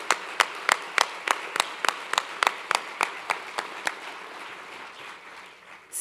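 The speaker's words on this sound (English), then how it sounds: "So would all of our Emeriti board members please stand for a quick round of applause?" A small audience at a 2019 foundation annual reception gives a quick round of applause for standing board members, heard as sparse, evenly spaced individual claps at a moderate distance that thin out and fade toward the end.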